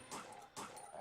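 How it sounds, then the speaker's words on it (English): Two quick dog barks or yips from zombie dogs in a survival shooter game, sharp and close together, fairly faint. "yeah, you're shooting at dogs"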